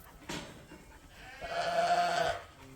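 Market lambs of about 100 pounds in a barn: a short bleat, then a longer wavering bleat close by, with quiet pauses between.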